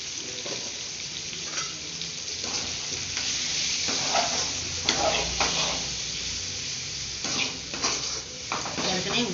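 Bitter gourd fries steadily in a pan with chili powder, a continuous close sizzle broken by repeated scraping and clinking stirs of a utensil.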